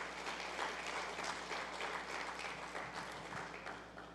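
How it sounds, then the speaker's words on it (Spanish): A church congregation applauds in a sustained, even wash of many hands clapping at moderate volume, heard from some distance over a faint low hum, with no voices over it. "¿Alguien puede darle un fuerte aplauso al Rey de Reyes?"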